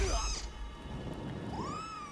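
A cat meows in the video game Nioh 3, two drawn-out mews at the start and near the end over a steady rain-like ambient wash, moderately close but fairly quiet.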